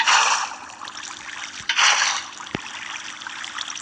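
Water flows with a steady hissing trickle while an aquarium is built in the Minecraft video game, with a couple of faint clicks over the constant stream.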